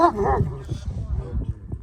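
A dog on a farm growls at another dog, jealous over meat; a brief high whine and yip give way to a close, continuous low rumbling growl, with faint voices in the background.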